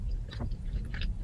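Close, quiet chewing of a crunchy vegan Jamaican patty, with a few short crisp crunches over soft mouth noise in a brief burst.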